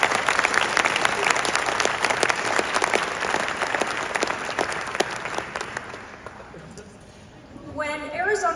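Audience applause fills a speaking event at a university, dense clapping from a large crowd for several seconds that thins and fades near the end, with voices briefly surfacing as it dies down.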